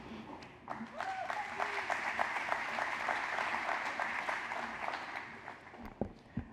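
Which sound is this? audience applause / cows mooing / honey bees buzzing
audience applause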